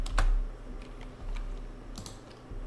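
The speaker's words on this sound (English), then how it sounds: "I can type the right thing in." Several quick taps on a computer keyboard while a value is entered in Rhino3D software, a few clear, close clicks spread over a moment under a low room hum, with no talking.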